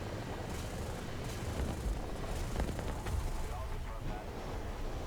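A plane shot down in War Thunder breaks apart in a dense crackling burst like fireworks, loud popping and rumbling layered over heavy continuous engine and battle noise with a few sharp transients throughout.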